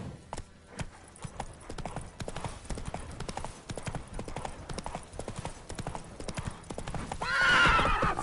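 Roach, the horse in The Witcher game, gallops with steady, rapid hoofbeats up close, ending in a loud neigh.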